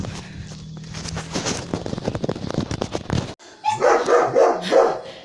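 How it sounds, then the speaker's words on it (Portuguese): Dogs at a house bark and yip in the dark, excited close barks overlapping with footsteps and shuffling, then a louder burst of barking near the end. "Olha os cachorros aí latindo."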